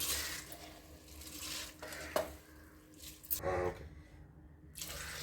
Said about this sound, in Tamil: அரிசி போட்டுக்கலாம்.